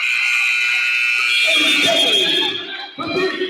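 A loud, sustained electronic basketball game clock buzzer drones for a few seconds at a playoff game while a commentator talks excitedly over it.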